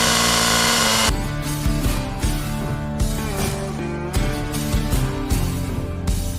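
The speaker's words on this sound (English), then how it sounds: "the brand new brand new electric saw from Husqvarna, the 542 XP" A new Husqvarna T542i XP battery electric chainsaw whines at high speed, then bites into wood with a loud, steady cutting drone broken by brief rhythmic dips in load.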